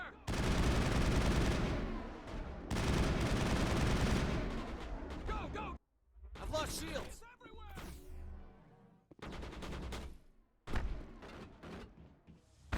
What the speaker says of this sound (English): We can fire a few pot shots here and there to anyone who sticks his head out of cover